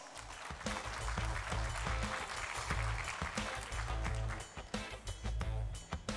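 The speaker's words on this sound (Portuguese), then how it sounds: "o nosso presidente da CEBIC, Renato Correia, a quem eu peço uma salva de palmas" Audience applause at a conference, a dense, steady crowd clapping that holds for several seconds before thinning out toward the end.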